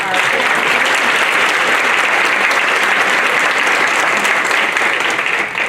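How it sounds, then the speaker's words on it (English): Sustained, loud applause from a room of attendees at a municipal clerks' redistricting session, dense continuous clapping that holds steady and tapers slightly at the end. "Let's give a round of applause for our"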